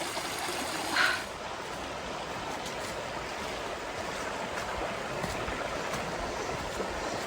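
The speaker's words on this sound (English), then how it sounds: "We're actually down at the river." Abrams Creek flows beside a hiking trail in the Great Smoky Mountains, a steady, close rushing of river water that stays constant throughout, with one brief higher sound near the start.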